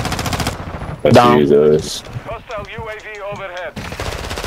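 Bursts of automatic gunfire crackle in a Warzone 2 match, a loud rattling volley near the middle amid sharp game effects, with players talking tensely before and after.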